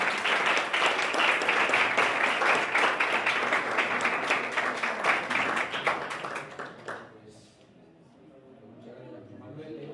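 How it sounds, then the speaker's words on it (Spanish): Applause from an audience at a school accounting workshop, steady dense clapping for about seven seconds that then stops abruptly, leaving quiet room murmur and a voice. "primero un aplauso"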